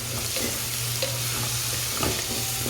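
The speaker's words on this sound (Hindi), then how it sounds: "ये लहसुन अदरक भी फ्राई हो गया" Garlic and ginger fry in a hot pan while a mix vegetable curry is being made, giving a steady close sizzle with a few stirring scrapes and no talk.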